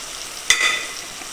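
Turmeric and spices roasting in hot oil: a quick spoon clink against the pan over a soft, steady sizzle, brief and close.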